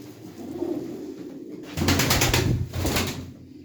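Pigeons coo at a bird auction, several soft, throaty rolling calls close by over low room noise, with a louder burst of cooing in the second half.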